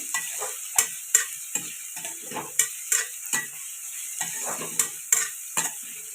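Chopped onions fry in a pan for a chicken masala curry, a steady sizzle broken by about a dozen sharp scrapes and clinks of a spoon stirring against the metal, close and fairly quiet with no voices.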